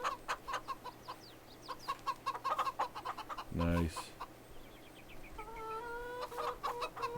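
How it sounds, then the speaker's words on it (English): Chickens in the farming video game Virtual Homestead, Silverrun Forest, cluck and squawk repeatedly in a lively flock, with one loud squawk near the middle, while someone speaks briefly. "We got 20 chickens."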